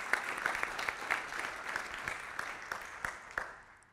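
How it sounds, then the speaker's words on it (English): An audience applauds a presenter at a technical talk on Wi-Fi and QPSK modulation, a steady patter of clapping at moderate volume that fades toward the end, with no voices over it. "Can we give Pam a round of applause?"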